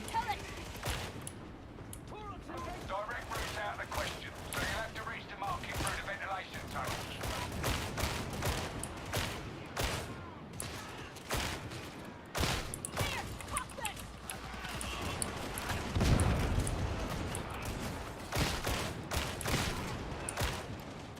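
Rapid gunfire in the Warhammer 40K Darktide video game, with dense bursts of sharp shots cracking steadily over a busy combat backdrop, loud and near throughout.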